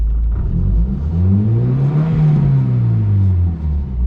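A Volvo engine with launch control engaged revs loudly and close by, a deep droning rumble that rises in pitch, peaks at about the middle and then falls back, with no talking.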